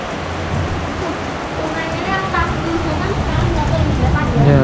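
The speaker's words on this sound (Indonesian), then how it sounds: "Ya, hujannya deres." Heavy downpour at a mountain house garden with a pond, a dense loud rain hiss with low rumbling thunder underneath, while a person speaks over it.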